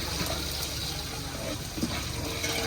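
Tap water runs steadily into a sink while raw chicken is washed for chicken pulao, a continuous close gushing splash without speech.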